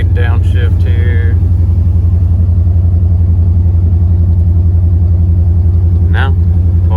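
A towing truck with an LQ4 6.0 V8 and BTR Truck Norris cam drones loudly and steadily at cruise with a locked torque converter, a deep even rumble that holds with brief higher chirps near the start and end.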